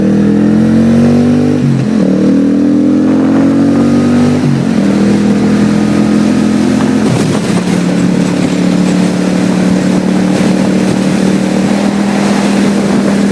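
A 2002 Suzuki VS800 Intruder motorcycle rides along with a loud, steady engine drone and heavy wind rush, the engine pitch dipping and rising as gears shift a few times.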